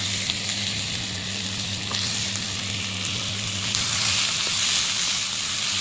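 Chopped ginger and garlic fry in a pan for tuna masala, giving a steady, close, even sizzle with no talking.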